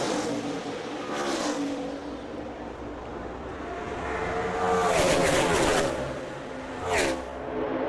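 NASCAR stock cars roar as they accelerate on a restart at a Daytona race, a rising engine drone swelling and passing with a louder surge near the end.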